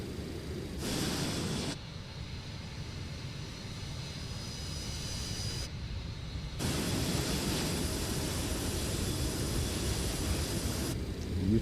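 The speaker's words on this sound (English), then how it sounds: "Here comes the gear down." Landing gear lowering on an FSS 727 passenger jet in MSFS2020 on approach to Nice, with a steady cockpit roar and airflow rumble that swells in loudness partway through and holds there, no voices.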